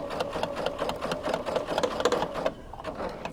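Sewing machine stitching through a thick, padded penguin play mat, a close, steady rapid whirring with a rhythmic needle pulse that slows slightly near the end.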